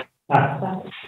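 A dog gives a single drawn-out bark with a whining edge, heard clearly after a moment of quiet.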